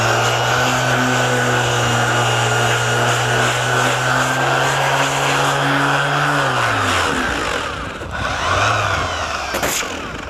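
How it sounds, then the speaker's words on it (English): An orbital sander with 80-grit paper grinds a welded plastic car bumper, a loud close whine holding steady and then dropping in pitch as it slows, with a brief restart near the end. "Do that here with an 80 grit on an orbital sander."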